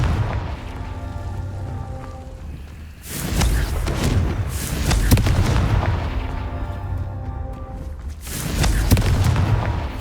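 Confringo fire spell blasts from the Hogwarts Legacy video game, with heavy booming explosions that land at about 3 s and again near 8.5 s, each followed by a rumbling roar and crackle over low ambient game noise.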